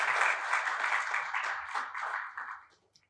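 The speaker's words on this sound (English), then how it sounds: "I just request all of you to just give him a quick round of welcome applause." A quick round of welcome applause from an evening audience at a TiE Mysuru investor event, clapping moderately dense at first, then thinning and fading out with a few last claps near the end.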